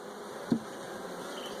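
Honey bees buzz at a hive in a steady, dense drone, with one brief soft knock partway through.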